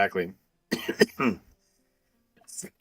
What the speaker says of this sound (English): He's still coughing